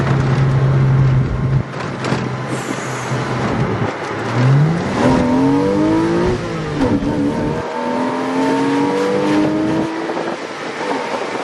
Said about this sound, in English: Alright, I'm gonna slow down and do a first gear pull here.